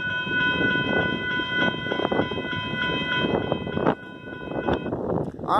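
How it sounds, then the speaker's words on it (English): A Union Pacific freight train rolls steadily past in rural Saint Elmo, Illinois, its loud continuous rumble and clatter of wagons filling the scene, with sharp horn blasts cutting in near the end. "Union Pacific freight train comes through here."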